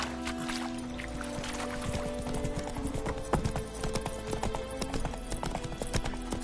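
Roach, the horse in The Witcher 3 game, trots with a steady, close clip-clop of hooves that runs throughout over a bed of ambient game sound.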